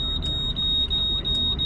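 A truck's low air pressure alarm beeps in a steady, rapid repeating pattern, loud and close over a heavy diesel engine rumble during a concrete pour with an engine de-rate warning.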